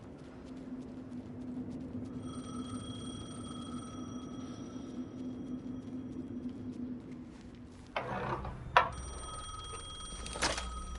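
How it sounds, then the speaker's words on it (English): Telephone ringing in the video game Alan Wake 2, a faint repeating electronic ring over a low ambient hum, followed by louder clattering near the end. "The phone again."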